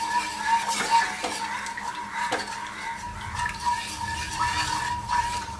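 A spoon scrapes and clanks around a pot as pudding mixture is stirred toward a boil on full flame, a close, continuous stirring sound under a steady background hum.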